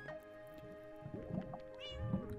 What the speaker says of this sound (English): is that a cat?